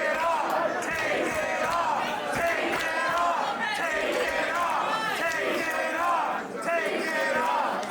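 Wrestling crowd at an Oblivion Wrestling event, a match between Chris Masters and Bryce Saturn, roars and chants steadily throughout, loud and dense, with shouted voices layered over one another.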